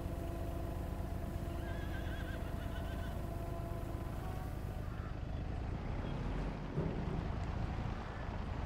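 A horse in Farming Simulator 22 neighs and whinnies several times over a windy outdoor game ambience, with faint hoof clops, moderately near and fairly quiet.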